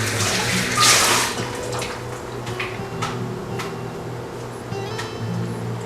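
Water running steadily from a faucet into a kitchen sink, a continuous broadband rush with a louder surge near the start and faint clinks of dishes, while making mozzarella.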